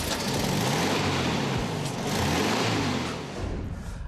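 A VW Beetle 1303 convertible with an air-cooled 1.6-liter boxer engine drives along, its steady mid-pitched engine drone close and continuous with slight swells in revs, no talk over it.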